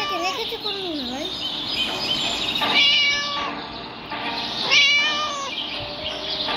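A cat meows repeatedly inside the video game Scary Teacher 3D, several drawn-out calls rising and falling over light game background sound, fairly close and clear.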